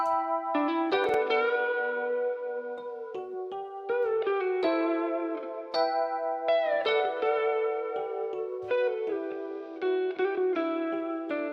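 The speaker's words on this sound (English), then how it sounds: "So putting my finished guitar clip with what I have with the Rhodes so far" An electric guitar part layered over Rhodes electric piano chords in an FL Studio beat plays alone, with effected, echoing melodic notes and steady chord changes throughout.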